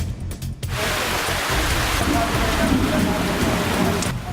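Rain pours down onto surfaces in a dense, steady hiss, loud and continuous from start to finish, with a brief uneven patch at the very beginning.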